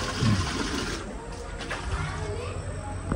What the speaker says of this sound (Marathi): संडाची बालडी भरतोय